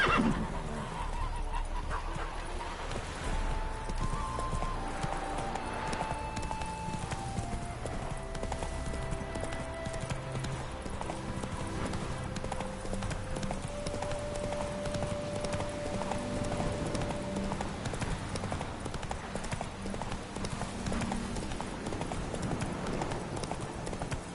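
Roach the horse in The Witcher 3 on PS5, steady galloping hoofbeats running throughout at close range over game music, with whinnying neighs standing out above them.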